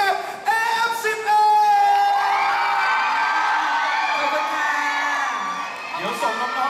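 A large crowd at an AF11 interview event at Siam Discovery screams and cheers in a sustained, loud roar that swells and then gradually tapers off.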